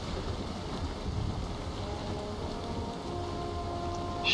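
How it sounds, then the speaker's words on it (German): Ocean waves and wind wash steadily around a boat sailing at sea in Valheim, a continuous broadband rush with no distinct events and no speech. "Jetzt sind wir auf dem Ozean."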